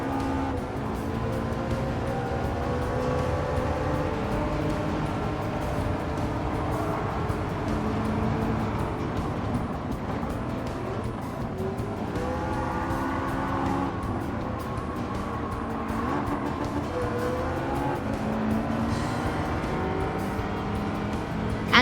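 A car engine drones steadily while driving the Nürburgring in the video game Gran Turismo 7, its pitch rising and falling with gear changes in a continuous, moderately loud game soundtrack.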